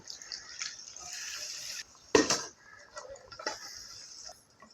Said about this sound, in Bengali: এখন আমি জল দিয়ে দেব পরিমাণ মতো জল দিয়ে দেব